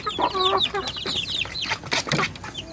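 Young chickens being fed cluck and squawk close by in a busy, overlapping flurry of short calls and higher cries.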